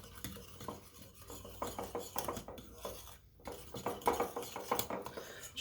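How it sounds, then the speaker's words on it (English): Spoon clinking and scraping against a bowl as banana bar batter with ground nutmeg is stirred, a close, busy run of rhythmic taps and scrapes with a brief pause midway. "So now I'm just going to stir this up to combine."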